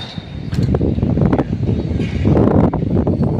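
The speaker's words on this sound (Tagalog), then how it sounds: "medyo malakas ang hangin" Strong wind buffets the microphone on a rooftop in steady, loud gusts, rumbling and roaring throughout with rustling noise.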